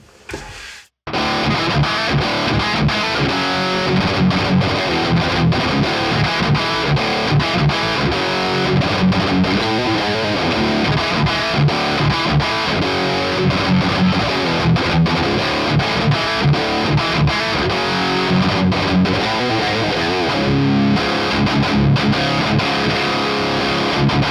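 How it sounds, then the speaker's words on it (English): Heavily distorted electric guitar riffing loudly and continuously through a Framus Cobra amp on the lead channel with a boost in front, thick and saturated with a crunchy high-gain tone, starting after a brief silence. "that's how the Framus Cobra can sound on the lead channel with a boost in front"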